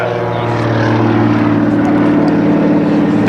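A big WWII biplane trainer re-engined with a 450 hp Pratt & Whitney radial, flying at an air show, gives a loud, close, continuous droning roar with a pulsing throb.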